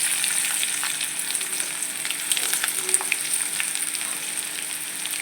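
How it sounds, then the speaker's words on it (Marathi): Onion shallow frying in a pan sizzles steadily with a bright, continuous crackle and faint spatters, heard up close with nothing else over it. "कांदा शॅलो फ्राय होऊ द्यायचा."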